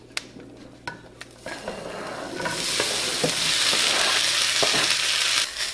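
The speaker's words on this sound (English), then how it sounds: "I'm going to saute my onions and peppers in a little bit of ghee" Onions and peppers sautéing in ghee for a breakfast burrito, opening with a few spoon clicks and stirs before a dense, steady sizzle swells and holds loud and close, with no voices.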